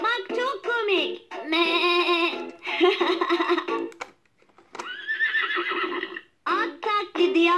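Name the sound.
toy imitating a horse neigh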